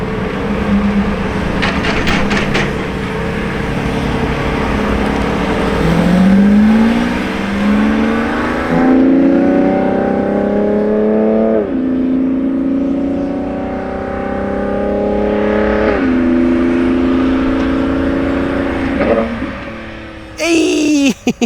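A purple Lamborghini Revuelto supercar with green calipers drives and revs nearby, its engine note rising and falling through several gear changes over about twenty seconds, loud and continuous, with a sharp burst near the end.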